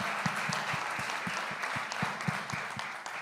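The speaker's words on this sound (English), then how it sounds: "we all should join our hands and clap for this man" Audience at the News9 Global Summit UAE Edition applauding, dense crowd clapping filling the hall with a few distinct louder claps near the microphone, sustained and even.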